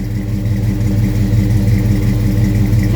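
A Chevy C10 idling through an aftermarket exhaust gives off a steady, deep, loud rumble that holds evenly with no talking.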